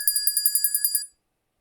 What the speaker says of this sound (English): So when the bell rings